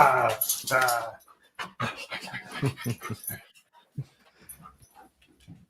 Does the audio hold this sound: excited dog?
yes